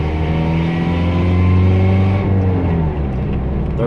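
A 5-speed truck's engine revs steadily and loudly as it accelerates, shifting gears without the clutch, with a smooth drop in engine pitch partway through as a gear change happens.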